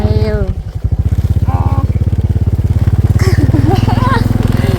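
A motorcycle idles and chugs with a rapid, steady engine pulse on a rural provincial road, loud and close, as people speak over it.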